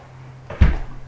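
A cupboard-style door swings open with a single short, fairly loud clunk and rustle against a steady low hum, with no talk during the sound.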